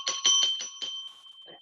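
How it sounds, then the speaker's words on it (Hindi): An electronic school bell rings in a rapid series of about five bright, pulsing strikes, followed by a fading ring and a faint final tap, heard alone. "स्कूल की घंटी बजी"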